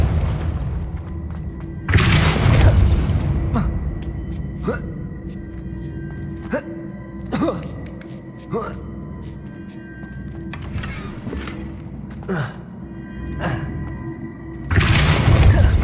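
Depulso spell cast in Hogwarts Legacy, heard as a loud booming whoosh that opens the clip and returns at the end, with sharp thuds and clatters scattered between over a steady low hum.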